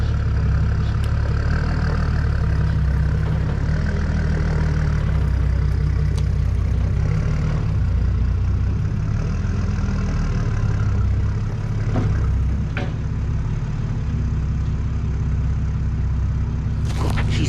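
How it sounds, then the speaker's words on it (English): A diesel four-wheel-drive vehicle engine runs steadily in low range, a loud continuous low rumble with a few brief clanks and knocks over the drone, no talking. "Got the diesel, 4-wheel drive, low range, so let's see if this works."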